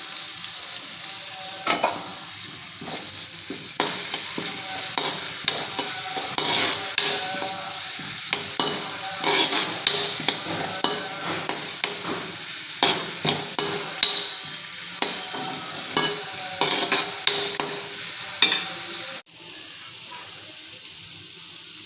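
Sliced onions and curry leaves sizzle steadily in a hot pan while a spoon scrapes and stirs in frequent sharp strokes, close and fairly loud, before the frying drops to a quieter hiss near the end.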